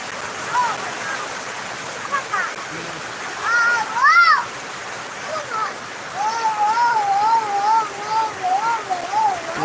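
Steady rain pours down as a broad, even hiss throughout, with a nearby voice talking over it in stretches.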